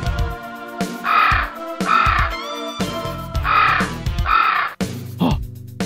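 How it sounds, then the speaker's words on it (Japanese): A crow caws repeatedly in harsh pairs, loud and fairly close, with a tonal musical background running underneath, at night in a Windows game. "あ、あれはカラスだ。"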